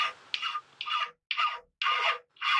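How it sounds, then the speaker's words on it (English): A metal hand file rasps across annealed steel hammer stock: six close, distinct push strokes with short pauses between them, a crisp, dry scraping sound heard alone. "so I'm filing it here just to show you how easily I can remove material"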